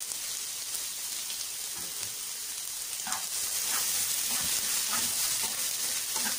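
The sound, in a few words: onions frying in a pan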